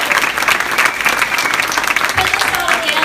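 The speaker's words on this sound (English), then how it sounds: "Clap big." Loud, close audience clapping at a live event, brisk and continuous, with voices mixed in.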